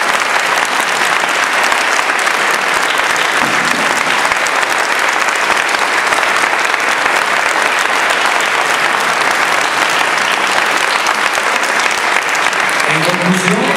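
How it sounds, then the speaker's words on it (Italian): Dense, loud applause from an audience at a music high school concert, sustained and even for about fourteen seconds, with no voices rising above the clapping. "vorrei che facessimo dunque un applauso"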